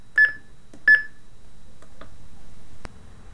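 Keypad on a Zartek wireless intercom handset entering a programming code, two clear high beeps followed by a few softer clicks and a final sharp tick, close and quiet.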